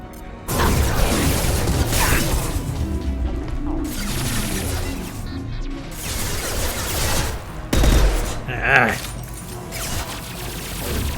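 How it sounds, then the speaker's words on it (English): Sci-fi gunfire from Mass Effect 2 combat: loud, dense volleys of shots and crashing impacts crowd nearly the whole stretch, with a heavy blast near the end and voices mixed in beneath the fighting. "Firing a high impact shot."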